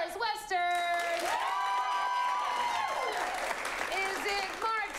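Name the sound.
audience applauding and cheering at improv comedy show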